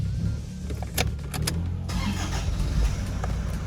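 A Toyota Hiace camper van engine cranks and catches, with a short starter whir followed by a low steady rumble close by, with no speech over it.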